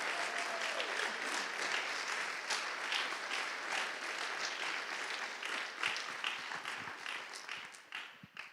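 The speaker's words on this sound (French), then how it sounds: "Vous pouvez applaudir bien fort" A crowd at a left-wing political rally in Lomme, France gives a sustained, dense round of applause for a speaker. The clapping stays steady and fairly distant, with a few sharper individual claps near the end.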